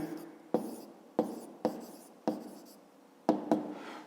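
A pen writes figures on paper for a fifth-grade math exercise, seven sharp strokes each starting with a crisp tap and trailing into a brief scratch, spaced unevenly across a quiet room.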